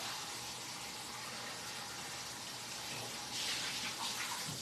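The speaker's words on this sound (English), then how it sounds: "I'm just going to rinse it" Tap water runs steadily as a pan is rinsed under it, a continuous close hiss and splash that briefly grows fuller near the end.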